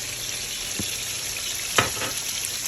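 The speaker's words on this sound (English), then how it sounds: "Let that fry down." Potatoes frying with garlic and lots of chives in a pan, a steady close hiss and sizzle with a couple of brief clatters of stirring, no talking.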